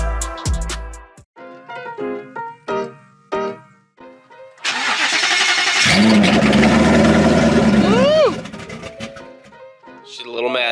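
A Ford Mustang GT with a large turbo cranks and catches, then runs at a loud, steady roar for several seconds before dropping back, heard close up after clicks and voices, with people talking.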